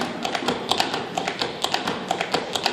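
Steady rhythmic taps from a tap dancer's shoes on a hard floor, repeating a quick three-sound walking step pattern, close and clear.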